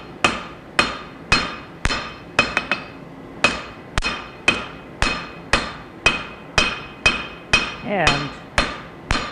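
Hammer blows forge a Wootz steel integral chef's knife on an anvil, striking in a steady, regular rhythm of about two ringing hits per second, close and loud, with a brief spoken word near the start.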